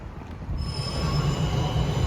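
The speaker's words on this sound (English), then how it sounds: "En route to Manchester Piccadilly train station" Train at Manchester Piccadilly station, a steady rumbling roar with high metallic wheel squeal running throughout, fairly close and continuous.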